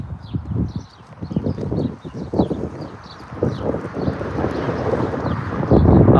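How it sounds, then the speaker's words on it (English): Gusty wind buffets outdoors, with steady rumbling noise, a few clopping hooves and faint distant birds chirping in the background. "No, it's too windy."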